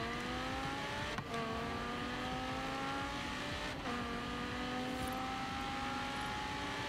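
A car engine in Forza Horizon 3 accelerates steadily, its rising harmonic whine climbing through gear changes, with two brief shifts breaking the tone; the revving stays loud and continuous throughout.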